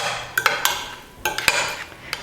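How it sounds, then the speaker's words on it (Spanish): A utensil stirs a quinoa tabbouleh salad with its dressing in a bowl, making a quick run of close, bright clinks and scrapes in uneven bursts with no talking. "Pues remover y que nos quede ya pues una ensalada, un tabule de quinoa perfectamente mezclado."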